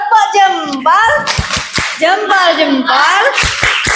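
Indonesian schoolchildren in a classroom doing a rhythmic thumbs-up clap routine, sharp unison claps landing in a patterned beat between loud chanted and sung voices.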